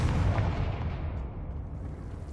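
A Confringo fire-blast spell exploding in the Hogwarts Legacy video game, a loud booming burst that decays into a rumbling tail.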